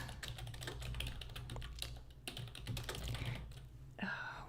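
Typing on a computer keyboard during a live book-review writing session, a steady stream of soft, quick key clicks close to the mic over a low background hum, with a brief pause partway through.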